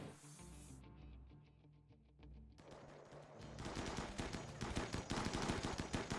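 Video game gunfire during shooting practice, starting as sparse clicky shots and building into loud, rapid automatic bursts that fill the later half.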